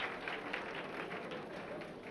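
Applause fills a Lausanne club as a beauty contest winner takes her lap of honour. A crowd claps steadily and fairly softly at a distance, with no pause.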